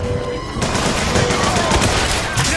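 Rapid gunfire in the video game BioShock Infinite, fired in dense, continuous bursts that fill the whole moment, loud and close with no pauses.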